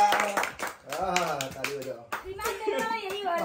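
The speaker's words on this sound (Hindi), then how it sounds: "ओ भाई तालियां बजाओ" People clap their hands at a Raksha Bandhan family gathering, with quick bursts of claps mixed in with lively talking and a voice close by.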